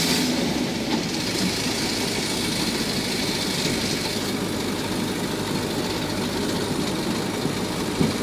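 A car engine holds a steady, continuous drone in fourth gear while pulling uphill, heard from inside the car at a constant moderate level with no talking.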